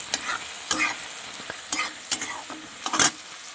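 Three whole green chillies and ginger frying in a pan for a vegetable curry, close sizzling punctuated by sharp scraping stirs and crackling pops, no talking.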